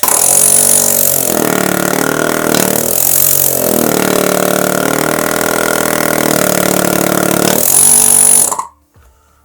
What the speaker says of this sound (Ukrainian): І вмикаємо компресор, слухаємо, як буде працювати.